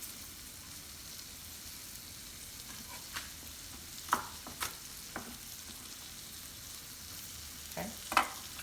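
Onion gravy of flour and oil cooks low in a pan, a faint steady sizzle broken by a few sharp scrapes and clinks of stirring.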